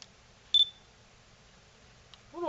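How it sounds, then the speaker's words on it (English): A Nikon Coolpix L330 compact camera with a previously stuck lens mechanism gives a short sharp beep and shutter click, then a faint tick and a rising mechanical whir, all close and otherwise quiet. "I wonder if I can take a photo"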